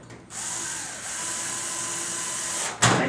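A power drill drives a screw into a back panel, a steady high whine running for a few seconds at close range, then a short sharp burst as it finishes.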